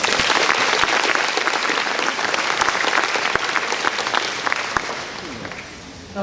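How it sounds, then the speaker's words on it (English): Warm audience applause at an agricultural awareness luncheon, dense clapping from a roomful of people that holds steady for several seconds and then gradually tapers off. "Let's give them a round of applause."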